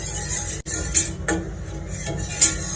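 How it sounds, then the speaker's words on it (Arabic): A spoon stirs béchamel sauce made with milk in a pot over medium heat, giving a steady scraping and swishing against the metal with a few louder knocks of the utensil. "في اللبن وافضل اقلب كويس، اقلب كويس، ايدي ما توقفش، افضل اقلب"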